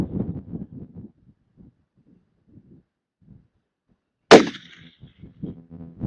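A single sharp rifle shot at an outdoor practical shooting range on a windy day, a loud crack with a short ringing tail, set between quiet stretches and brief low murmurs.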